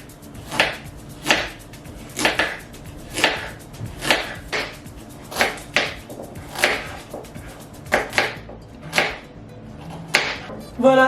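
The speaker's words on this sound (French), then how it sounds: "Vous n'oubliez pas de laver les carottes et ensuite on vient les couper" A knife chopping washed carrots into rounds on a cutting board, about a dozen crisp, evenly spaced cuts in a steady rhythm, close and clear.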